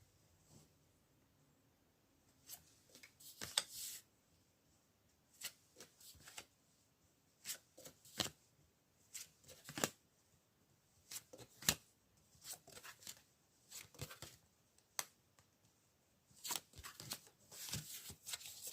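Tarot cards are shuffled and drawn in short, crisp riffling bursts and soft slaps, close and fairly quiet, repeating irregularly with brief pauses between them and no voice.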